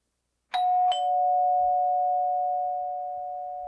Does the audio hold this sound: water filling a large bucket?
no